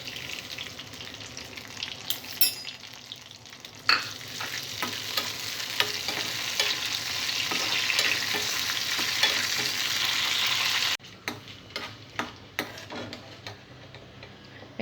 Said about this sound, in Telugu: ఆయిల్ వేడైన తర్వాత ఎండుమిర్చి ఫ్రై చేసుకోవాలి.